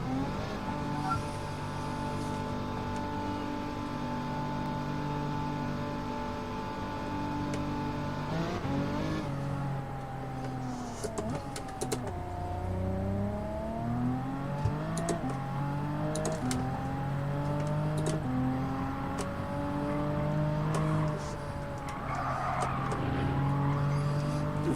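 A BMW M4 race car on sports medium tires in Gran Turismo 7 drones steadily, its engine note rising through the gears with clear shifts and brief tire squeal, heard alone and sustained throughout.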